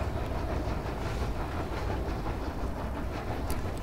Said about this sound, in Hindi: पर गाइस ट्रेन तो बहुत अच्छी चल रही है